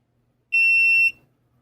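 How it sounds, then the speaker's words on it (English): A multimeter beeps during a continuity test between test points on the relay board of a dehumidifier whose compressor won't turn off. The beep is a single loud, steady electronic tone lasting about half a second, followed by faint background noise. "So I got a beep there."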